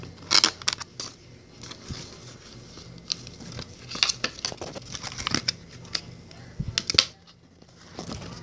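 Scissors snipping out paper doll clothes, with bursts of crisp paper cutting and rustling close by, pausing between cuts, quiet in the gaps.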